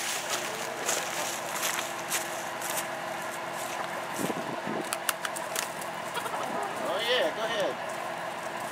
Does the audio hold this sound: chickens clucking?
yes